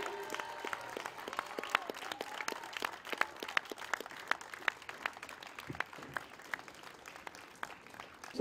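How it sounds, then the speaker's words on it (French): Audience applause at an awards announcement for a local casting contest, heard as faint, scattered claps from a modest crowd with sharp individual hand strikes and a little background murmur. "On peut l'applaudir."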